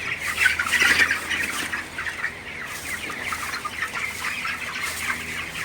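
A flock of 24-day-old broiler chickens clucks and squawks steadily at close range while drinking water in the early morning, with a busy, continuous chatter of overlapping calls and no talking.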